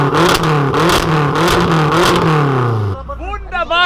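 A BMW M6 engine revs loudly in steady pulses for about three seconds at a tuning shop opening event, then drops away as voices and crowd chatter take over.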